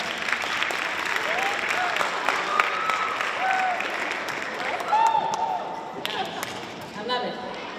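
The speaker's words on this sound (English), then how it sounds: "I just want you guys to give a round of applause for yourselves." A school audience at a Black History Museum stage event claps steadily in sustained applause, with some cheering and whoops rising above the clapping throughout.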